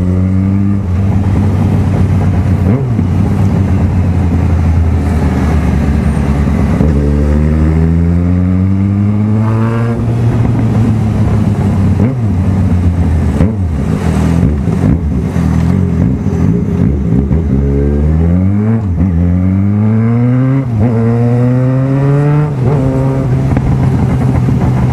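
A loud Yamaha XJ6 motorcycle engine with a carbon fiber exhaust idles with a deep rumble, then revs up repeatedly against the rev limiter in rising, throaty bursts, close to the microphone.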